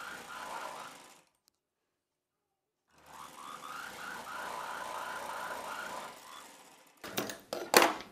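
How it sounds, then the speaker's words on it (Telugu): A sewing machine stitches two cotton pieces of a child's summer frock together in two runs of rapid, rhythmic whirring with a silent pause between them, followed by a few sharp clicks and knocks of handling, close up and with no talking. "ఇప్పుడు ఈ 2 పీసుల్ని కలిపేలాగా ఒక కుట్టు వేసేసుకోవాలి"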